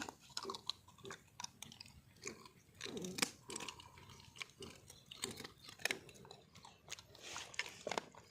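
An animal eats its morning rice with steady, close chewing. The repeated soft crunches and bites are quiet and irregular and carry on throughout with no talk over them.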